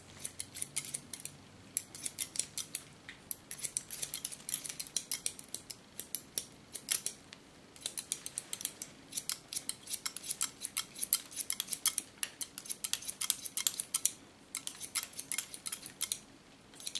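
Scissors snipping through short blonde hair during an asymmetrical haircut: quick, crisp, close cuts in irregular clusters with brief pauses, repeated steadily throughout.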